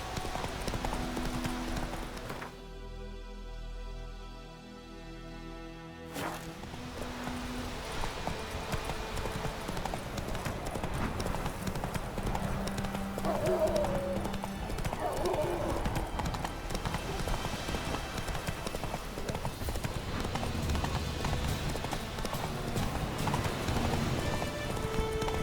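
Horse hooves clip-clopping steadily in The Witcher 3 video game, a continuous trotting rhythm under game music and ambience, with a short pause in the middle.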